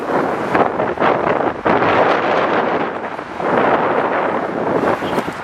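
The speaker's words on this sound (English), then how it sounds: "It's too cold to stop. It's very windy." Strong wind buffets the microphone in loud, continuous gusts, roaring and rumbling without a break, on a freezing day in New York near LaGuardia.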